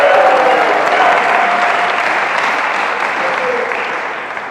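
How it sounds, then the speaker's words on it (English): Church congregation at St. George's applauding on Giving Sunday, a loud, dense burst of clapping that slowly softens, with a faint voice or tone briefly audible under it. "Give them a round of applause."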